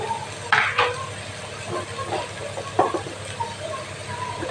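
Potato and papaya pieces fry in spiced oil in a pan, giving a soft steady sizzle with a few sharp clinks and scrapes of a spoon against the cookware.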